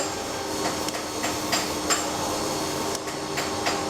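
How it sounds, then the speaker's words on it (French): Screws being cut off where they protrude from the bolsters of a Laguiole knife in a cutlery workshop, a series of sharp metallic snips and taps at an irregular rhythm over a steady background hum. "Là je coupe les vis qui dépassent."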